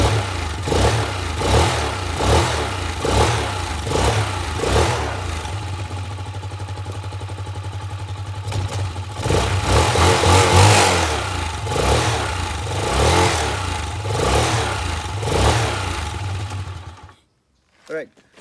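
A motorcycle engine runs close by, idling with a steady pulse and revving repeatedly in rhythmic surges, then cuts off near the end, leaving near silence before a brief final sound.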